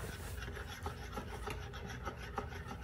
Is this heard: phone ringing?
no